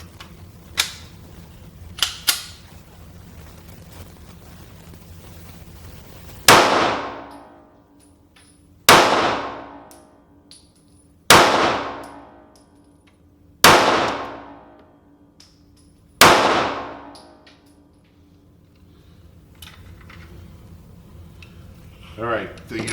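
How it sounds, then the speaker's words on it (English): A Sccy pistol fires five loud, sharp shots, each with a short ringing decay, spaced about two and a half seconds apart. A few faint clicks and handling sounds come before the first shot. "the rest of that magazine fired through with no problems"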